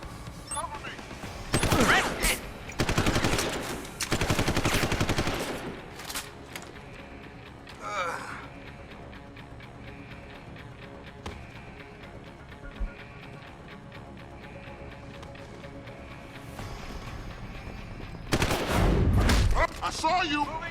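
Heavy gunfire bursts in Deus Ex: Human Revolution, loud rapid automatic volleys in two clusters early on and another near the end, with quieter scattered shots and shouted combat voices between.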